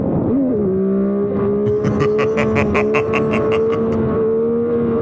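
Yamaha R9 motorcycle pulling hard in third gear at full power, its engine note rising and holding loud and close, with rapid sharp pulsing bursts layered over the steady drone.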